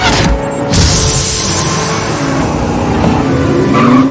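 Cars chase along a road in a Hawkeye episode scene, with steady engine roar and tyres skidding as they swerve, loud and continuous, punctuated by brief sharp impacts and a rising whine near the end.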